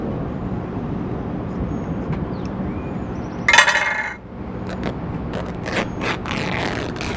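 Scissors cut small strips from a cotton bandana at close range, a brief crisp snipping burst in the middle amid quiet background with a few faint scrapes and clinks.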